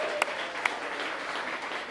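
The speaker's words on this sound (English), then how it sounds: "round of applause for the two moms" Wedding guests applauding the mothers of the couple, a steady wash of clapping from a crowd with a couple of sharper nearby claps standing out.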